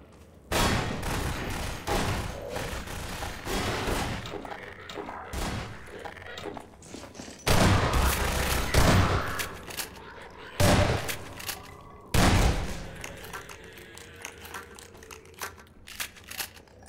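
Bursts of gunfire and loud blasts from the video game Half-Life 2 hit in irregular clusters, some long rattling volleys and sharp booming explosions, with someone talking in between.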